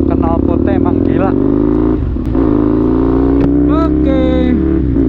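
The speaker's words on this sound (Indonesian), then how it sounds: "Jadi emang suara mesinnya, suara knalpotnya emang gila." A loud MV Agusta Brutale 800 RR motorcycle engine runs steadily with a deep exhaust rumble, rising and falling in pitch as it revs, while someone talks over it.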